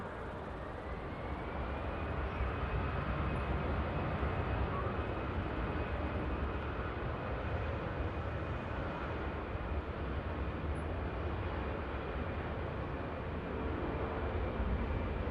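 EasyJet Airbus A320 rolls down runway 23L at Manchester Airport, heard from a distance as a broad, steady engine roar with a rising whine that levels off and holds throughout.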